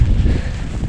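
Cold winter wind buffets the microphone outdoors in a switchgrass field, a loud, steady low rumble with no other sounds over it.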